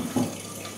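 Pure water runs steadily from the outlet of a household water purifier, a soft, constant trickling hiss heard briefly and quietly on its own.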